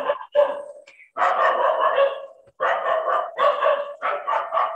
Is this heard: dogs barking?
yes